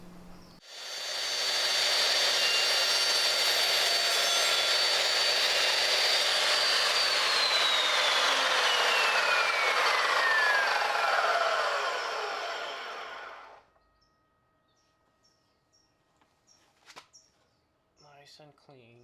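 A tool cuts through a taped fuel hose during surge tank plumbing on an E46 M3, giving one continuous, fairly loud whirring grind that lasts about twelve seconds, drops slightly in pitch and then stops, followed by a few faint clicks.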